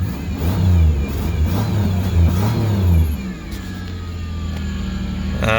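A Lincoln car engine runs steadily and close by, revving in a few uneven bursts before settling into a lower, even idle hum.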